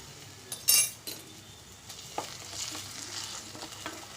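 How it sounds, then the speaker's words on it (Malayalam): A spoon stirs ginger paste into vegetable kichadi in a pan, with a soft sizzle and a brief sharp clink of metal near the start. It stays close but quiet, with no talk. "അതിലേക്ക് 1 ടീസ്പൂൺ ഇഞ്ചിയുടെ പേസ്റ്റ് ഇട്ട് കൊടുക്കാം."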